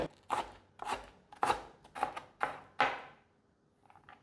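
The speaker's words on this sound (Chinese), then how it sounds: "把芹菜切条， 把芹菜切碎，" A knife chops celery finely on a cutting board, six crisp evenly spaced strikes, close and clear, followed by a faint trailing tap.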